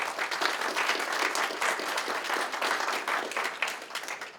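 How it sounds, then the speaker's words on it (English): Warm applause from an audience at a community donation event at a library, steady clapping that holds at a moderate level throughout. "Let's give them a round of applause."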